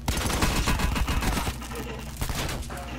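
Rapid gunfire rattles through a Call of Duty firefight in dense, overlapping bursts for about a second and a half, then thins to scattered shots and a reverberant tail, with players' voices briefly mixed in.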